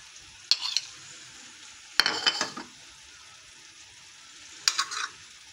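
Yellow food colouring mixed in milk is stirred into rice cake batter in a bowl: three short bursts of wet scraping and clinking, moderately close, separated by quiet pauses.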